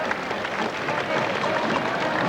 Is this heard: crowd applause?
yes